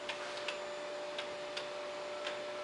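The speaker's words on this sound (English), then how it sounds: "this video is to give you an up-close look at this early Biedermeier Black Forest Cuckoo" An early 1860s Black Forest Biedermeier cuckoo clock made in Furtwangen, Germany ticks close up, with a quiet, even tick-tock repeating alone in a still room.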